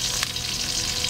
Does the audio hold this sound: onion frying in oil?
yes